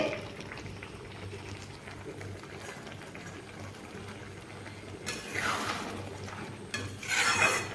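A pot of bottle gourd and lentil curry bubbles steadily at a low simmer, with a louder scraping stir rising near the end.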